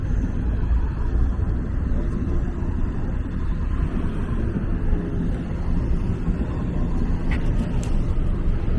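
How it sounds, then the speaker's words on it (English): Number 92 city buses pass along a street near the Beaches boardwalk in Toronto, a broad engine rumble mixed with wind buffeting on the microphone, steady and fairly close, with no voices. "There comes some 92 buses."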